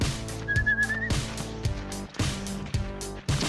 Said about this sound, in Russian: Че ты свистишь?